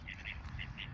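Several short duck quacks in a park, close and fairly loud, coming in quick separate bursts over a low steady outdoor background.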